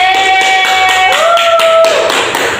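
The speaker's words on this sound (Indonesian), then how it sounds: "Tolong berikan aplaus untuk teman kita tadi" A classroom of students claps for a classmate during a lesson on elasticity, a short burst of scattered hand claps with a steady tone running underneath.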